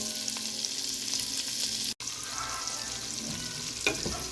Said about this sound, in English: Now you're going to add the onions.